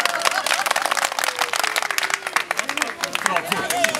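A group applauds itself on a photography trip in Cumalıkızık, a dense burst of clapping running the whole time with voices mixed in.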